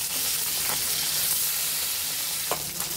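Koi fish frying in white oil crackle with a loud, dense, continuous sizzle close by, broken by a couple of brief scraping stirs; no voices.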